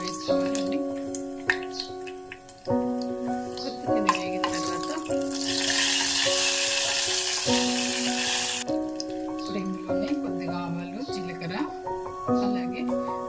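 Garlic frying in oil in a pan: a bright hiss swells for a few seconds in the middle, set against steady melodic background music.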